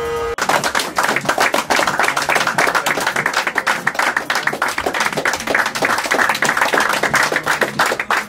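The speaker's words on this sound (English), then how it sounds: "I wish you guys give him a round of applause" A crowd applauds steadily, dense rapid clapping from many hands that fills the whole stretch at a loud, even level.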